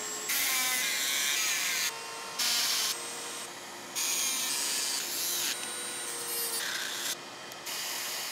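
A Dremel rotary tool cuts through a plastic gearbox with a loud, high whining grind that comes in several bursts of a second or two, separated by short pauses, with no talking.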